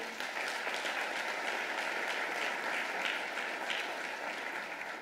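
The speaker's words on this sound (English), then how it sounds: "And this applause is for you, for your hard work." Sustained applause from an audience at a 2017 State of the City address, a thick, even roar of clapping hands lasting the full stretch without pause, close and fairly loud.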